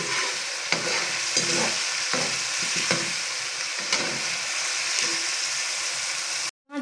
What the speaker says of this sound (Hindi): आपने अच्छे तरीके से टमाटर प्याज हरी मिर्चों को भून लेना है।